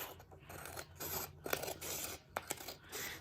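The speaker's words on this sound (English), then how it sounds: "So I am going to use my scissors for that. So I'm cutting right along the edge." Scissors cutting along the edge of a sheet of paper, a quiet close series of snipping and rasping strokes with a few sharper cuts, faint and with no talking.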